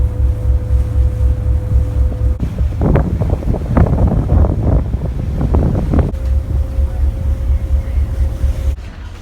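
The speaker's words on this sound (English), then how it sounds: "we've just boarded a ferry, which is going to take us across the harbour to Sydney Opera House" A ferry crossing Sydney Harbour rumbles steadily beneath heavy, gusting wind buffeting the microphone, with a low engine drone and waves splashing against the hull throughout.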